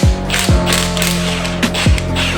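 An impact-style power tool hammers at the center bolt of a Suzuki SV650 magneto, giving loud close bursts of rapid mechanical rattling with low spin-down thumps repeating about every half second to second.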